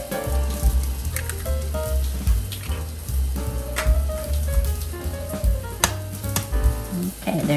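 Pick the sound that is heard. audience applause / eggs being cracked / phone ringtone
eggs being cracked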